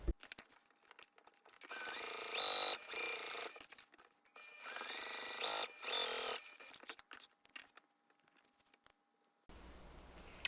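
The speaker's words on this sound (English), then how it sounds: "take both of these pieces to our machine, and we are going to stitch across both these short edges at a 3/8 inch seam" A sewing machine stitching a 3/8 inch seam across the short edges of two fabric pieces for a crossbody bag, running in two steady whirring bursts of a few seconds each with brief pauses and clicks between.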